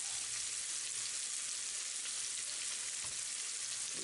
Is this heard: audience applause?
no